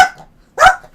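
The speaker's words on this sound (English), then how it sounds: "You can't just bark like that and run away." A dog barks in a video game, two sharp barks with a short gap between them, loud and close, with no speech over them.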